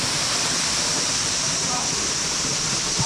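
The hidden waterfall at Vattavada gives off a loud, continuous rushing roar of falling water that stays even and close throughout.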